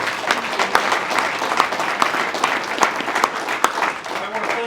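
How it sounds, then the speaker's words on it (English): An audience at a breakfast event applauds, with steady, fairly loud clapping from a room full of people running throughout, crisp individual claps standing out over the crowd. "Give them a big applause."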